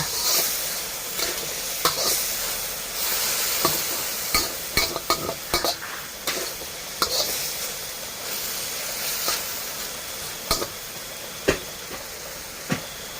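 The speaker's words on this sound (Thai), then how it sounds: "ผัดให้สุกค่ะ" Pork stir-fries in a pan, giving a continuous loud hiss of sizzling with repeated sharp scrapes and clanks of a spatula stirring at irregular intervals, with no talk.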